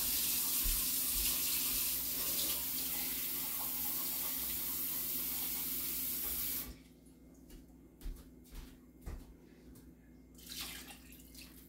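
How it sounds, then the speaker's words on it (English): Tap water pours steadily into a Dutch oven for soup, a loud continuous rush that cuts off partway through, leaving faint drips and small kitchen clatters afterward. "I'm going to fill the water about 3/4 of the way full"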